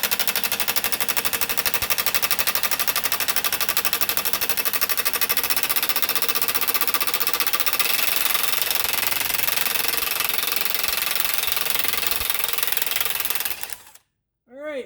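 An impact wrench hammers on the lower ball joint of a 2012 Subaru Impreza, a loud continuous rapid rattling that runs for about fourteen seconds before stopping abruptly.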